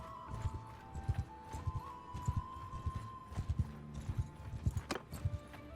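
Horse hooves clip-clop in a steady, uneven rhythm, with a neigh and a sustained tone underneath, fairly close and moderately loud; mounted soldiers moving in the video game Mount and Blade 2: Bannerlord.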